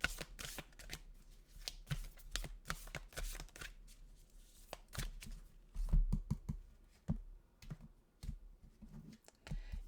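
Oracle cards are shuffled by hand in close, quiet riffles and taps, the soft papery flutters coming in uneven bursts with no one talking.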